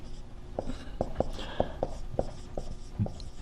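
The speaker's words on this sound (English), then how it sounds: "I'll try to make sure I write that." Pen or chalk writing out notes during a machine simulation lecture, a string of sharp, evenly spaced taps and strokes close by over a quiet room.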